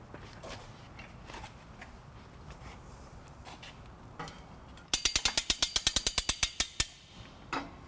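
A U-Haul hitch jack raising a trailer hitch into place under a 2010 Scion xB gives a quick run of about fifteen sharp, evenly spaced ratcheting clicks, loud and close, after a few seconds of quiet handling noise.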